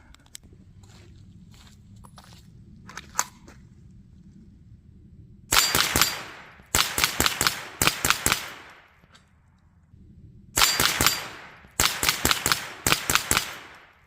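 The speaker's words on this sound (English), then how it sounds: "if you can shoot them fast enough, enough times on a row, you can actually get them to fall over there" Ruger 10/22 rifle firing rapid strings of shots at steel targets outdoors, with two loud bursts of quick cracks and metallic pings, each burst about four seconds long, separated by a quiet lull with faint background noise.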